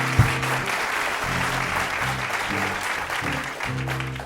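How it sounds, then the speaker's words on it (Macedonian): A studio audience applauding at a Macedonian talk show: sustained, dense clapping from a crowd, loud and steady, with a low hum underneath. "Па кога сме веќе кај тоа еден аплауз за Дебора."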